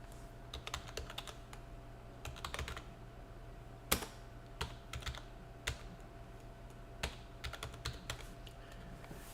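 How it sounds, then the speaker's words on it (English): Computer keys clatter in quick bursts of typing as a command is entered for a drive-sanitization lab, irregular clicks with pauses and a single sharper keystroke near the middle, close and clear over a low steady hum. "let's type our command in"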